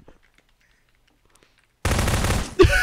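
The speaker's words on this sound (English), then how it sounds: "He's just shooting everything." Gunfire in the video game Garry's Mod Prop Hunt: after near silence, a sudden loud sustained burst of rapid automatic shots, briefly pausing then resuming, with no talk.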